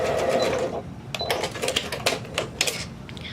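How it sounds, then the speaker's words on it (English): A sewing machine stitches across a shirt placket in short rapid bursts, its clattering needle close and clear, pausing briefly between runs. "we're going to stitch across the placket"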